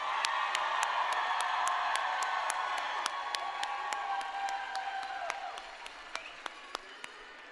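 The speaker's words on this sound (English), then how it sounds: "salute and applaud the faculty who mentored you and taught you on" Nursing graduates standing at a Rutgers School of Nursing convocation at NJPAC applaud their faculty, broad sustained clapping filling a large hall with scattered whoops that fades toward the end, leaving a few isolated sharp claps.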